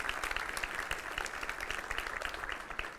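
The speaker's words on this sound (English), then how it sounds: "round of applause" Crowd applause after a C++ functional programming conference talk, a steady, fairly distant patter of many hands clapping throughout, without a break.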